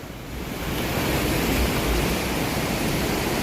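Floodwater in a Thai village rushes past in a loud, steady broadband roar that swells in the first half second and then holds without voices.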